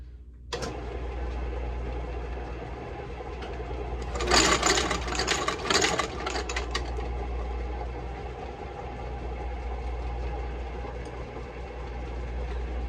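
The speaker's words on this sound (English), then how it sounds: "now we're gonna stitch it with some white thread to pop against that blue sole" A sewing machine stitches a blue shoe sole with white thread during a shoe repair, humming steadily at close range, with a louder rattling burst of stitching partway through over a constant low drone.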